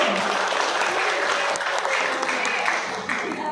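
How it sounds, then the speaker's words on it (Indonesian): Steady applause from a training class audience, dense and continuous for a few seconds without a break. "berikan tepuk tangan dulu"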